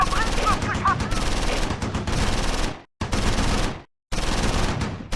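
Heavy gunfire in the video game Close Combat 4 at Simmerath during the Battle of the Bulge, continuous loud machine-gun bursts and shots with a voice speaking, cut by brief silent gaps.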